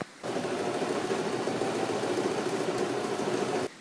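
A sewing machine runs steadily, stitching striped skirt fabric that is stretched so it scrunches up for a gothic lolita skirt; a continuous mid-pitched motor whir with fast needle chatter for about three and a half seconds, starting and stopping abruptly.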